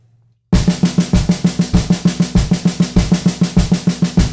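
Fast double-stroke rudiment on a snare drum in even sixteenth notes, paired hits rolling steadily and loudly, with a bass drum thumping every four notes underneath for about four seconds.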